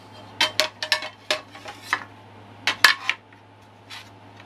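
Metal frying pans clatter and clank against each other in a quick series of sharp knocks, then a pause and a few more clanks, no talking.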